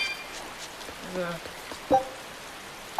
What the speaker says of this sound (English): It's a rainy town.